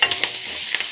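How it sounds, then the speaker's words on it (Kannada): Curry leaves frying in oil give a brief close sizzle with light stirring scrapes. "ಚೆನ್ನಾಗಿ ಫ್ರೈ ಆಗಲಿ."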